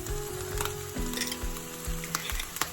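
Minced garlic and beef frying in a pan, a close, steady sizzle with rhythmic scraping and stirring knocks every half second or so, no voices.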